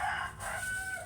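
A native chicken rooster crowing close by, one short, loud, harmonic call lasting about a second.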